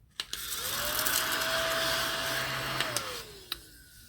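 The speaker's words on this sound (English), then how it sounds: "A little desktop rechargeable vacuum." A small rechargeable desktop vacuum cleaner whirs steadily, a high motor whine that rises and falls, with a few sharp clicks as it switches on and off and brief knocks around it. No one speaks.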